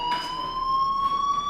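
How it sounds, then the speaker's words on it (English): A fire alarm in Life is Strange sounds a steady, piercing electronic tone that holds without a break, loud and continuous throughout. "do you hear that fire alarm?"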